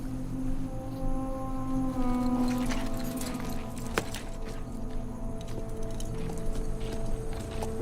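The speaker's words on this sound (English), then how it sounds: "ditch the horses" Horses walking with irregular hoof clip-clops over steady low droning hum in a film scene, moderately close, with a few sharper knocks and no speech.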